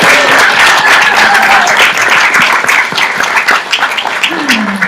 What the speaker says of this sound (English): let's give them a wonderful round of applause